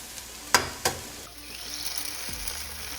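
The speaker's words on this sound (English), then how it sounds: "in this empty side, we are gonna crack our eggs" Eggs are cracked into a hot pan beside warm vegetables for fried rice: two sharp taps close together, then a steady, rising sizzle as the eggs hit the oil.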